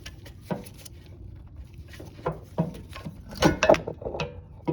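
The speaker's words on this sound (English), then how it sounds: "So you get a long screwdriver and you're gonna pry on each side." Long screwdriver prying an oil pump away from an engine block, a handful of irregular metallic clicks and creaks, close and fairly quiet.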